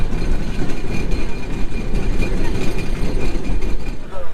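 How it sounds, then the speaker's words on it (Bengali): The Rupshi Bangla Express pulls out of Narail station, heard from on board as a loud continuous rumble with rhythmic wheel clatter and rattling carriages. "আমাদের ট্রেন এখন নড়াইল স্টেশন ছেড়ে যাচ্ছে"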